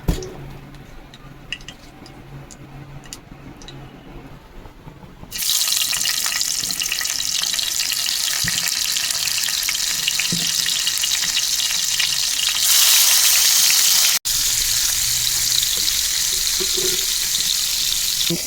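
Spiny gourd (kakrol) frying in a pan at home: soft, quiet kitchen noise gives way to a loud, steady sizzle that swells further near the end, continuous and close with no talking.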